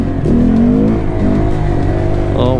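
A Honda Grom motorcycle engine revs hard through a wheelie, the pitch climbing and dipping in steady surges, loud and close for a couple of seconds.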